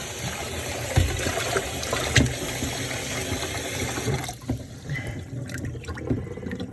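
Water runs and splashes steadily while raw chicken breast is rinsed in a bowl with a little vinegar, making a continuous close gurgling wash with occasional knocks and sloshes and no talking.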